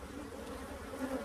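Honey bees buzzing steadily at an open hive during beekeeping work, a continuous close, low drone with no voices.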